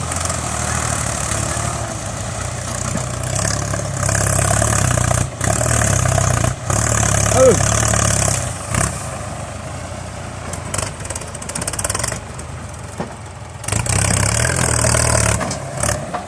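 A Champ 45 tractor engine idles steadily and loudly nearby during sugarcane field clearing, a continuous low diesel rumble with a few brief dips and knocks and no talking.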